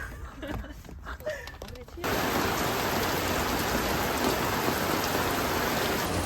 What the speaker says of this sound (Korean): 여러분 지금 비가 짱 많이 오고 있어요